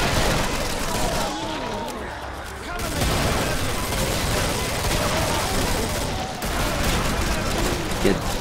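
Gunfire in the Killing Floor co-op game on the Hellride map, dense sustained bursts of shots and booms filling nearly the whole stretch with a brief lull, loud and close, with talk mixed underneath.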